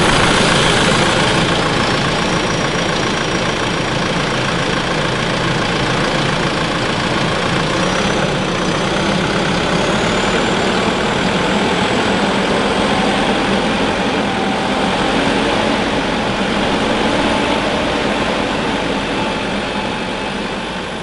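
A diesel engine idles steadily during a DPF soak cleaning, a constant loud low rumble with a faint rising whine, no talk over it.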